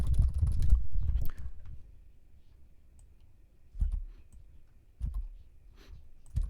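Clicky typing on a computer keyboard, a dense burst of keystrokes at first, then quiet, then a few isolated taps, close and fairly soft with no talking.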